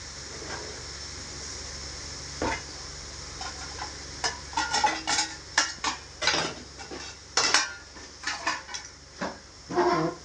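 Metal clanks and clatters of a pot and lid over a steady sizzle as chicken for biryani fries, with scattered sharp knocks growing busier toward the end.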